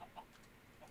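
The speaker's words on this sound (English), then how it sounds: "I hear the chicken." A Minecraft chicken clucks softly, a couple of faint short clucks in quiet game audio, ending with a sudden low thump.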